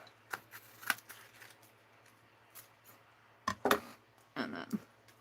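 Scissors snip a piece off a snippet roll for a sunshine journal: a few quiet, crisp cuts with light paper rustling, clustered near the end, with no talking.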